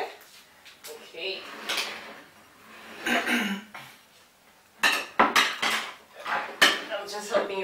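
Cutlery and dishes clatter and clink as they are handled and laid out, in irregular bursts of metallic rattles and knocks, some louder than others, while people talk nearby.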